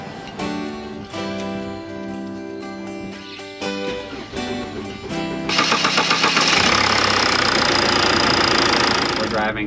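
Vehicle diesel engine running on the road, a steady rumbling drone that swells louder and rougher partway through as it works harder, heard close with a voice talking over it.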